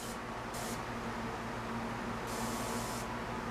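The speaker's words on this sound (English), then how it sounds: "So this one should be more of a spray or a fog, I guess you would say." An Inokraft non-aerosol sprayer releases a steady, continuous fog of spray, a close, even hiss that runs the whole time with two brighter bursts of spraying, and no talking over it.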